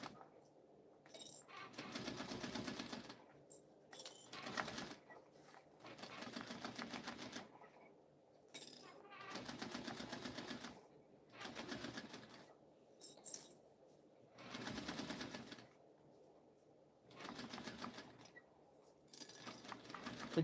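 A sewing machine stitching a fanny pack at a 2.5 stitch setting runs in short bursts of quiet rapid clatter, separated by brief pauses.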